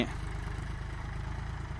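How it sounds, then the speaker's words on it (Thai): A John Deere 5310 tractor's 55-horsepower diesel engine, about seven years old, idles steadily at close range, a low rhythmic chugging throbbing evenly throughout with no voices. "รถเจ็ดปีนี่เสียงเครื่องนี่"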